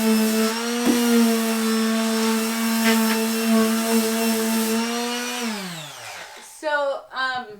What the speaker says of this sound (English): So, I am sanding now.